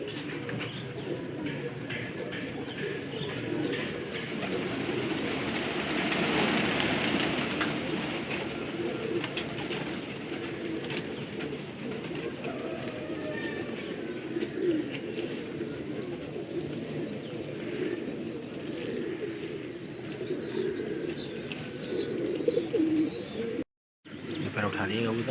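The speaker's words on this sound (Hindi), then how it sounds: "बहुत कबूतर निकल के आ रहे हैं," A large flock of pigeons on a rooftop loft, with steady soft cooing and fluttering bird sounds throughout, fairly close, under a constant outdoor background and occasional talk.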